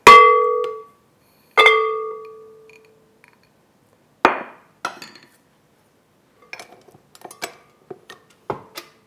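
Butter and sugar being beaten together in a bowl for a German poppyseed crumble cake: two loud ringing clanks of a utensil striking the bowl, then a run of lighter scrapes and clinks, with no talking.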